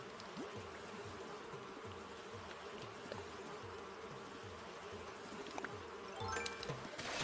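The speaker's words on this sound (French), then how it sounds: "Je voulais attraper les guêpes !" Wasps buzzing in the video game Animal Crossing: a steady, faint insect drone with repeated wingbeat pulses, continuous throughout and slightly busier near the end, with no talking.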